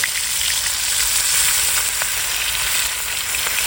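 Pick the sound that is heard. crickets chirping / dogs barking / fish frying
fish frying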